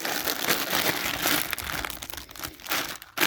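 Snack packaging crinkles as it is pulled from a scout's campout backpack pocket, a close, busy rustle of plastic wrappers rising and falling throughout.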